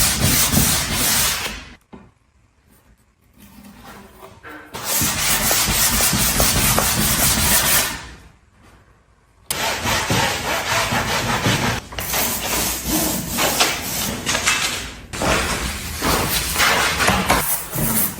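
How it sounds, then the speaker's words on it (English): IKEA dresser edges are sanded by hand with 220 grit sandpaper in loud, close, rhythmic rubbing strokes that run in long stretches, with two short pauses between them. "I lightly sand the edges with 220 grit sandpaper"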